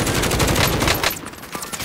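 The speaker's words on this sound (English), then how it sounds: "They're still shooting me." Rapid gunfire from the Warzone battle royale video game, dense automatic bursts crackling loudly for about a second before thinning into scattered, sharper shots.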